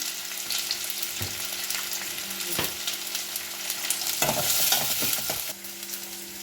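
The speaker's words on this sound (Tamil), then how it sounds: "சின்ன வெங்காயம், பச்சை மிளகா 2, வரமிளகா 2 போட்டு தாளிச்சிருக்கேன்." Shallots, two green chilies, two dry red chilies and a pinch of asafoetida crackle in hot oil as a tempering for tiffin sambar. The close sizzle swells and sputters as the pan is stirred, over a faint steady hum.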